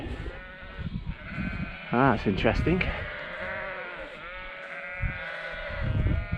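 Sheep separated from their lambs bleating loudly and repeatedly, a wavering chorus of calls close by, with a person speaking briefly over the noise.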